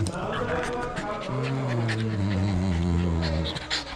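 A small dog whimpers and pants at close range in a steady, breathy rhythm, while a person talks over it throughout.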